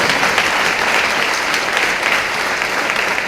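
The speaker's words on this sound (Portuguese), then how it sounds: "Você pode aplaudir ao Senhor de Deus." Dense, steady applause from a large church congregation fills the whole stretch, loud and sustained without pause.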